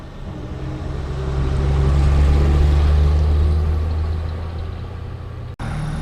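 A 1964 Chevrolet Grumman Olson Kurbside step van idles close by, its smooth engine rumbling steadily and swelling in a gentle rev before settling back, with no voices over it.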